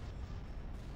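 Heavy, continuous booming barrage of laser cannon fire from a Star Wars space battle video game, with dense low rumbling blasts overlapping throughout at steady loudness, no speech.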